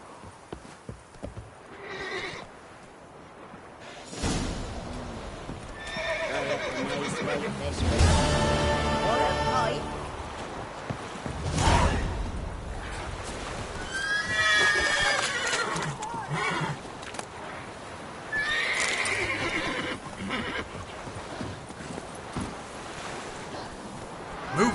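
A horse in The Witcher 3 whinnies loudly several times, with hoofbeats clip-clopping and galloping beneath, set against an outdoor game soundscape.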